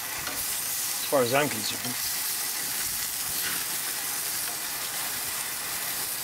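Zucchini slices sizzle and hiss steadily on a hot gas grill, a soft continuous frying sound with a brief clatter of handling and someone speaking quietly.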